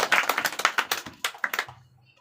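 A group of children clap in unison at a school gathering, about a dozen sharp, close, evenly spaced claps in a quick rhythm that stop abruptly, leaving a faint low hum.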